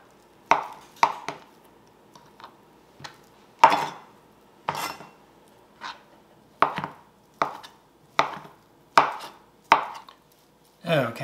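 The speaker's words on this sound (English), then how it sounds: "just cut some slices and then cut some more slices and cube it up" A knife chops Spam into cubes on a board, with about a dozen crisp, close knocks in an uneven rhythm and quiet gaps between them.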